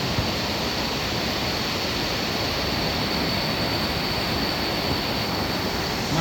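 Water pours over an overflow weir at Ta Ngoi as a continuous, dense rushing roar, loud and unbroken with no voices.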